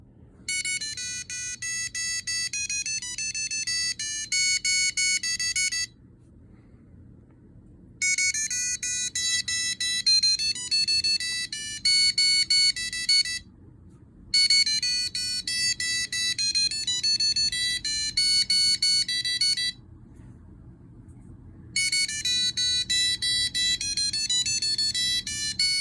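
Electronic beeping melody from an Arduino motion-sensor alarm, loud and bright, repeating in four bursts of several seconds each separated by brief pauses, with a faint hum underneath.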